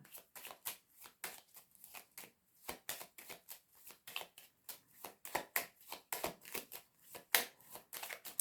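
Tarot cards are shuffled and set down close up, giving a steady run of crisp riffling and flicking bursts with short gaps between them and no voice heard.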